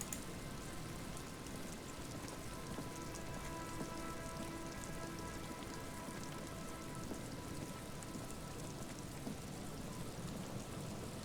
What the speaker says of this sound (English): The pouring rain.